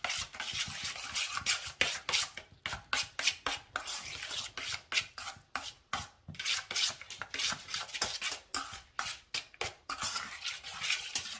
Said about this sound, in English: We're going to mix this together really well.